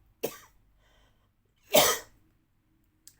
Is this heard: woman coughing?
yes